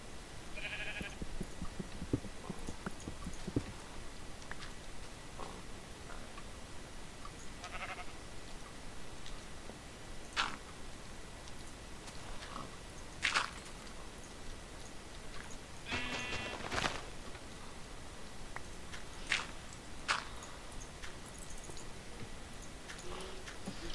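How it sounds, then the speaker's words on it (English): Sheep in Minecraft bleating in short, scattered calls, with occasional clicks and taps of game activity between them, fairly faint. "that's a sheep that just walked past my door"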